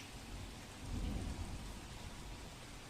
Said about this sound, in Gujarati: શહેરમાં મોડી રાતથી ધોધમાર વરસાદ વરસી રહ્યો છે